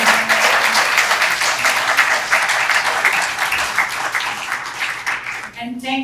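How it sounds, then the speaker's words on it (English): An audience at the 2025 Riverbay Board of Directors election forum applauds the candidates, with dense, steady clapping throughout and a murmur of voices underneath. The applause thins out and fades near the very end. "Let's give them all a round of applause."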